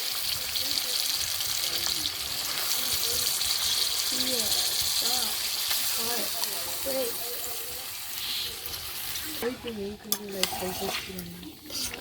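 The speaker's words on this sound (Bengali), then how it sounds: "রসুন ভাজা হয়েছে, একটু আদা দিয়ে দিলাম" Steady loud sizzle of onion, garlic and ginger frying in hot oil, with occasional stirring scrapes and voices talking over it.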